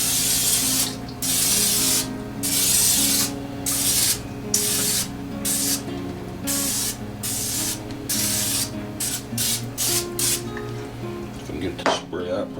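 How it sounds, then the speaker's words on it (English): An aerosol can of canola cooking oil sprays onto an oven rack in a kitchen, in repeated short and long hissing bursts with brief pauses between them, loud and close. "we're going to spray our rack with some canola cooking oil"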